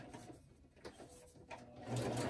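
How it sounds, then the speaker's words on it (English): A sewing machine stitches around the edges of small handmade journal pages, its faint, uneven whirring rising to a steadier, louder run near the end, with no talking. "It took me 15 minutes on my sewing machine to sew around all of the other pages in this small little book."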